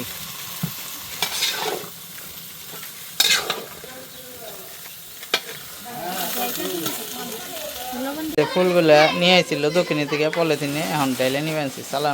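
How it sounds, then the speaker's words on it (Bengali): Two people stir a large pot of vegetables together with a big spoon, scraping and sizzling steadily, with voices talking over the stirring in the second half. "এখন দুইজনে মিলে নাড়াচাড়া দিতে আছে সবজি"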